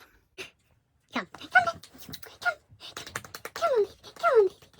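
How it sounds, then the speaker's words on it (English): A dog whimpers and yips in short, rising whines several times, close by and moderately loud, with brief quiet gaps and breathy sounds between them, just before a walk. "So I'm gonna take my dog for a walk, Benjy"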